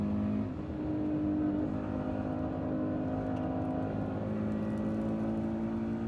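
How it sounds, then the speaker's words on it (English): A Toyota GT86 sports car engine roars steadily at high revs through a race track corner, its exhaust droning loud and continuous throughout with a slight pitch shift, no voices. "Here's what the exhaust sounds like, by the way, on arguably the worst corner for this."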